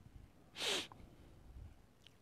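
A person gives a single soft sneeze, a brief sharp burst against a quiet background, followed by faint breathing.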